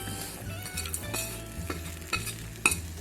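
Chicken pieces sizzle steadily in a hot pan for chicken cheese patties while a utensil stirs them, with a low rhythmic scraping and a couple of sharper metallic taps near the end.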